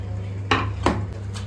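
A knife chops quickly on a board during bachelor-style chicken cooking, giving three sharp, close strikes over a steady low hum.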